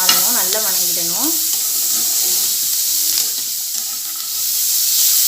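Shallots sauté in a pan for mint chutney, cooking down until they change colour, with a continuous hissing sizzle and occasional stirring. A brief tonal whine sounds near the start before the frying carries on alone.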